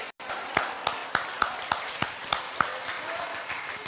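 A church or event audience breaks into applause, a steady run of overlapping claps with a few sharp individual slaps standing out, close and fairly loud, with no talking over it.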